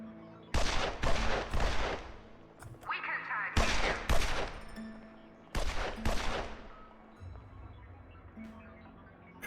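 Gunfire in a video game: several sharp, loud bursts of shots in quick clusters, separated by short pauses, with quieter background sound between volleys.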